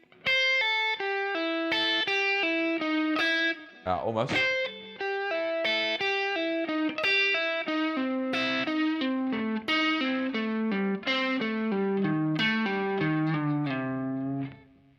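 An electric guitar with a distorted, chorus-tinged tone slowly plays a descending A blues scale sequence in groups of four, one clear note after another, loud and close. A brief spoken word breaks in near the start.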